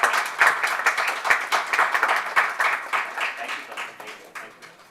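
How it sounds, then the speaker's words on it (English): Conference audience at a health insurance summit breaks into applause, a loud burst of clapping with distinct individual claps that gradually thins and fades toward the end. "Round of applause"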